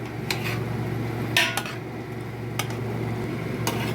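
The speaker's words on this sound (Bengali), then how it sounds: "এবারে এই যে ভাজা চিকেনটা দিয়ে দেব" Fried chicken pieces being added to sauce in a pan, heard as a few sharp clinks and clatters of utensil against cookware over a low steady hum.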